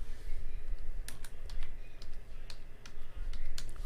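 Scattered clicks of a Dell laptop keyboard being typed on, a few quick keystrokes then pauses, close and fairly quiet over faint room noise.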